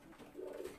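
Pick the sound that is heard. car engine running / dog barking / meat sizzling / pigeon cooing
pigeon cooing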